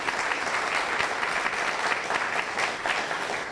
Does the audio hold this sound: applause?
yes